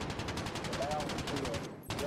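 Rapid video-game gunfire from Call of Duty: Modern Warfare, a dense, loud burst of repeated shots running steadily with a brief dip near the end.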